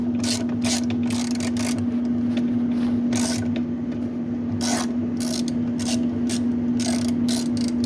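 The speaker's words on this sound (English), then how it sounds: "7/16 socket with an extension to take that out" A 7/16 socket ratchet with an extension turns the agitator bolt inside a washing machine, giving irregular bursts of close, rasping clicks over a steady mechanical hum.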